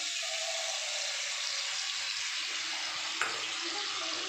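Cabbage Manchurian sizzles steadily in a frying pan with a constant, hissing crackle, fairly quiet, with one brief clink partway through.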